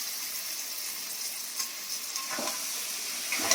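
Potatoes tossed into a hot frying pan of oil sizzle with a steady hissing crackle, close and even, with a faint clatter of stirring partway through and no voices.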